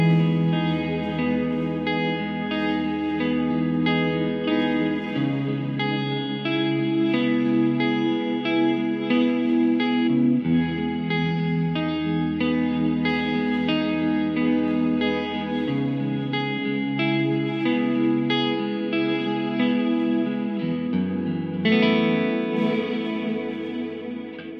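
Guitar chords played through a reversed algorithmic reverb swell into each note, a steady, dense wash of changing chords lasting over twenty seconds, loud and unaccompanied by voices.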